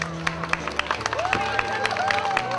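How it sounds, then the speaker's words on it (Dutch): Crowd applause greets the queen at the festive opening of pavilion Welgelegen, the Noord-Holland provincial house, as scattered claps ring out amid murmuring voices and a narrator speaks over it. "Onder luid applaus werd zij ontvangen door haar commissaris van Noord-Holland"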